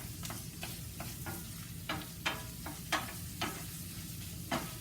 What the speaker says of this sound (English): The onion, we'll get the onions cooked good.